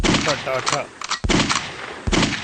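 Chinese-made AK-47 assault rifle firing: a few loud, sharp bursts of gunfire break out after a brief vocal stretch, with short gaps between the blasts.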